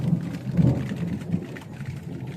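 A soft, low thunder rumble rolls under steady rain, with a few deeper swells rising and falling in the distance.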